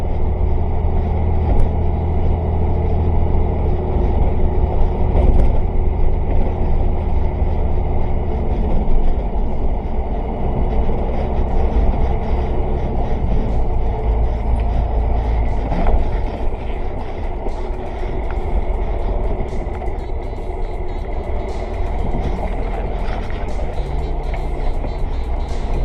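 A large fire engine rumbles at low speed while manoeuvring to park beside an army truck, a steady heavy engine drone throughout with faint clanks and mechanical noise.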